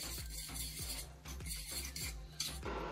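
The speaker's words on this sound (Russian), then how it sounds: "И хорошо все перемешаем." A sauce mixture of ground pepper, pressed garlic and water stirred in a bowl, with a utensil scraping and clinking in a steady, repeated rhythm of strokes, close and alone.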